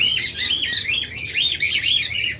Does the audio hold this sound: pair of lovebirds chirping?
yes